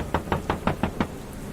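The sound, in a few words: knock on a door, sound effect in a horror story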